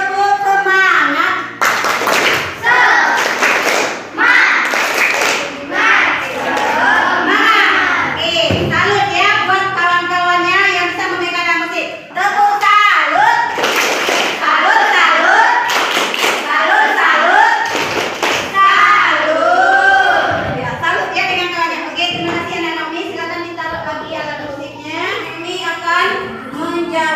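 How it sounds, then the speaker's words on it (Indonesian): A primary school class performs a rhythmic spirit clap, with patterned claps, taps and thumps mixed with children's chanting and voices over a long stretch. "kasih tepuk semangat"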